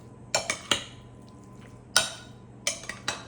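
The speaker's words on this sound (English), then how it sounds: "And kind of just gently stir that in." Shrimp roll mixture gently stirred in a bowl, with a spoon giving several sharp clinks against the bowl in small clusters, close and separated by quiet pauses.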